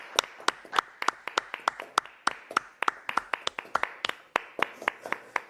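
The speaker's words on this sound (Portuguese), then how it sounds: "Palmas pro Pascoal." A studio crowd on a live sports radio show claps in a quick, steady rhythm, sharp repeated hand claps ringing out close and fairly loud with no talking.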